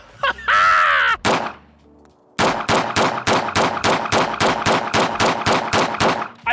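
Pistol fire rings out at an outdoor shooting drill: a long rapid string of sharp, loud shots at a steady fast rhythm. A brief squawky, tonal burst and a short silence come before the volley.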